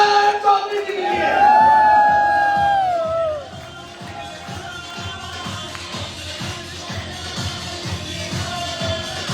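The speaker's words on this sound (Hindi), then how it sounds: "एक बार जोर तालियां" A crowd at a network marketing business event cheers and whoops loudly, the shouting peaking early and then easing into a rhythmic thumping beat with background crowd noise.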